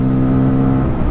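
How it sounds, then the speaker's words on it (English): A 2023 Bajaj Pulsar N250 motorcycle engine revs hard and loud at close range in a steady, droning pull under full acceleration, with no talk. "Accelerating as fast as possible, and as we approach the corner"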